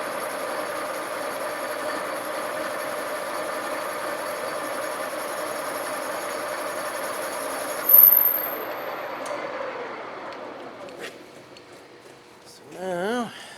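A lathe cutting tool squeals while facing a flange-style U-joint on a deep cut: a steady, piercing high-pitched squeal over continuous machine noise, cutting off partway through and leaving quieter workshop sounds.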